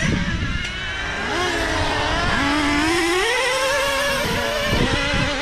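Modified big-block race cars running together through a turn on a dirt track, engines roaring and revving with rising and falling pitch, loud and close, sustained throughout without talk.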